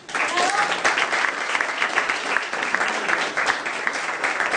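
An audience applauds a tango singer performing with a band, with a dense, steady burst of many hands clapping that stays full and even throughout.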